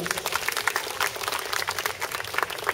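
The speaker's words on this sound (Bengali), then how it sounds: "তো জোরে হাততালি ওদের জন্য।" A crowd claps steadily and densely for children performing at a Sanskriti Club Bengali New Year celebration, the applause filling the space at a moderate, even level.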